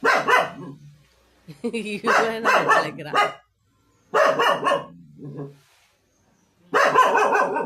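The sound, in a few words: dogs barking as dog catchers arrive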